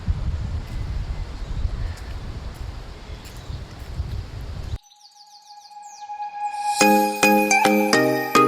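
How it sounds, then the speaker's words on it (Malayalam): Wind blows outdoors in a cold botanical garden in Munnar, a gusty low rumble on the microphone for about half the time before cutting off abruptly, followed by bright chirping and tonal calls. "അതുപോലെ തന്നെ നല്ല കാറ്റുണ്ട് കേട്ടോ"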